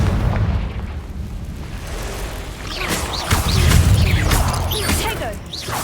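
Confringo fire spell in Hogwarts Legacy: a steady rumbling roar with crackling bursts and fiery whooshes that swell midway, dense and loud throughout.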